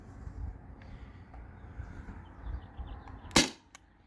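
A single sharp, close crack from a modified Sabre 68 air gun fired over a chronograph near the end, with a faint metallic click after it, over a low steady background rumble.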